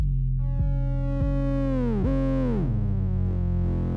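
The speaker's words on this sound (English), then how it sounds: "Hear how that affects the distortion?" Repeated low synthetic drum hits through the Waves Berzerk distortion plugin ring into a distorted, droning tone whose pitch bends and sweeps downward as feedback builds, loud and continuous.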